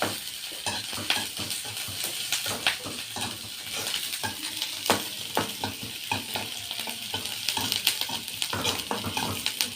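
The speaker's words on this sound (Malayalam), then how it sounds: "ചെറുള്ളി വെളുത്തുള്ളി പച്ചമുളക് അതിട്ടൊന്ന് ഇളക്കി കൊടുക്കാം" Shallots, garlic and green chillies sizzle in hot oil in a pan, with a constant frying hiss and regular scraping and clinking as a spoon stirs them.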